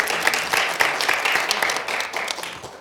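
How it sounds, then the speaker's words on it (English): A panel event audience gives itself a round of applause, a dense burst of many hands clapping that carries on evenly for a few seconds and fades slightly toward the end. "give yourself a round of applause"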